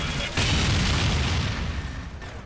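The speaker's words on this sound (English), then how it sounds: "This thing will go for your sentry and explode when it gets there." A sentry buster robot in Team Fortress 2 Mann vs. Machine detonates with one loud, deep boom that starts sharply and rolls on as a sustained rumble, with no talk.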